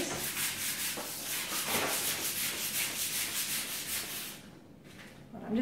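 Quick hand sanding of wood indoors, a steady close rhythmic rasping of repeated back-and-forth strokes, loud and continuous before fading out near the end.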